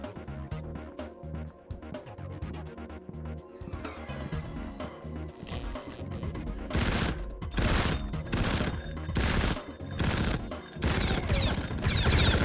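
Gunfire in a video game: continuous dense combat noise with rapid repeated shots early on, then heavier, booming blasts and crashes layered over a busy game soundtrack.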